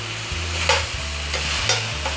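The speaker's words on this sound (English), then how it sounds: "So the onions are starting to caramelize." Onions sizzle and fry in a pan as they caramelize while a utensil stirs them, with a few scraping strokes over the steady crackle.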